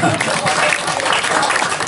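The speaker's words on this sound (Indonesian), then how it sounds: "Tepuk tangan untuk pemuda kita" Steady, dense clapping from a crowd at a Balinese ogoh-ogoh performance, sustained at an even level throughout with a bright, noisy texture.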